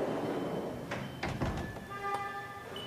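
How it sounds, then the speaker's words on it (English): The sliding doors of a Haas CNC machine roll shut with a few clunks and a rattling slide against a steady machine hum, followed by faint electronic tones. "close the doors, and press cycle start."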